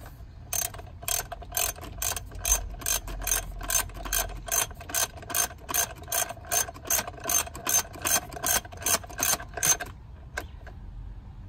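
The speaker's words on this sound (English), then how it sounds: "And then 10mm wrench. We're just going to snug it. Nothing too tight." A ratchet wrench clicks in a fast steady rhythm, roughly two dozen crisp metallic strokes, while snugging 10mm spark plug cover bolts on a Honda Pilot engine. The clicks are close and alone, then stop near the end.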